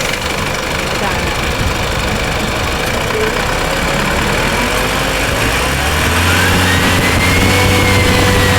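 An Isuzu Mu-X engine revs up with a loud, constant turbo noise, a steady broadband roar that swells slightly toward the end while people talk nearby.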